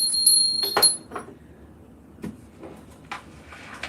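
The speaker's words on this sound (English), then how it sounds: "There's a little bell for you." A small bell rings twice in quick bright strikes near the start, followed by quieter clinks and knocks of handling in a quiet indoor room.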